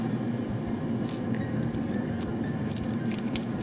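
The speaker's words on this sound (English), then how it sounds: "I could honestly even cut this. I'm finna cut it a little bit." Material being cut to size with scissors for fitting onto a speaker, a steady run of close snipping and rustling with faint crinkles, no talking.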